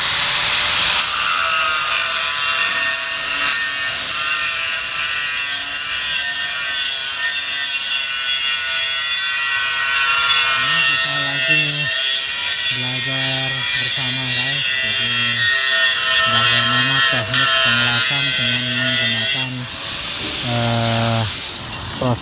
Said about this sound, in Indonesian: Oke, gerinda dulu.